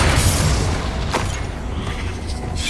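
A Confringo spell explosion in Hogwarts Legacy lands as a heavy, rumbling boom, with a brief sharp burst near the middle and a dense roar that fades slowly across the moment.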